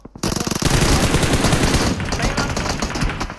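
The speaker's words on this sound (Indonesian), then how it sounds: "ada beberapa tembakan yang diarahkan ke arah tim 12" Rapid automatic gunfire in the mobile battle royale game PUBG Mobile during an online league final, a loud dense burst of shots that rattles on for several seconds after a brief quiet start.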